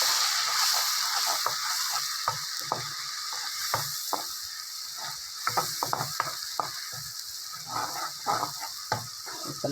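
Onion paste with coriander powder, chilli powder and garam masala frying in a pan for ginger chicken, a steady sizzle broken by irregular sharp scraping and clicking stirs, close and fairly loud with no talking.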